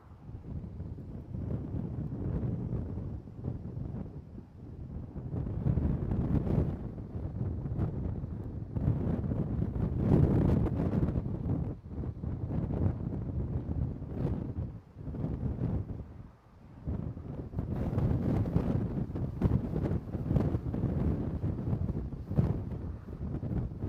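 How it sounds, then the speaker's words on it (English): Strong, gusty wind at a lakeside wildfire, with whitecaps on the water, roars and buffets the microphone continuously in loud surges and brief lulls, with no talking. "the wind was whipping along pretty good in there as well"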